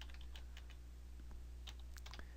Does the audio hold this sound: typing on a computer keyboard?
yes